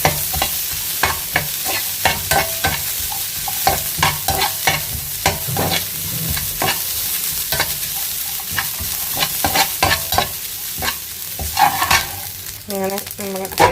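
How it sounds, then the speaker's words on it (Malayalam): Garlic and fennel seeds fry in a small amount of oil in a pan, a steady close sizzle with repeated scraping stirs throughout, and a brief voice toward the end. "ഒക്കെ ഇട്ടിട്ടാണ് ഒന്ന് വറുക്കുന്നത്. കുറച്ചേ ഉള്ളൂ. നമുക്ക് വറക്കാം."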